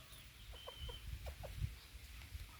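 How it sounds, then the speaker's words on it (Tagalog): Native chickens cluck in short, scattered bursts against low background rumble, moderately close, no talking. "mga native naman to manok ko"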